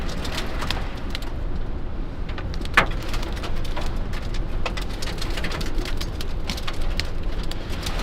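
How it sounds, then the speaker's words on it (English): Derecho storm in northern Indiana, with steady dense patter of hail and rain striking surfaces under gusting wind, one sharp loud impact, continuous and close with no voices. "Combination of the wind and hail."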